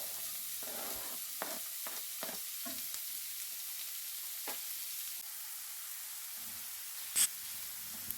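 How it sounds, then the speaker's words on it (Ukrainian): Onion sizzles steadily in about five tablespoons of hot oil in a pan, a soft continuous frying hiss with occasional scraping stirs and one brief louder clatter near the end. "На сковорідку вливаємо приблизно 5 столових ложок олії та викладаємо цибулю."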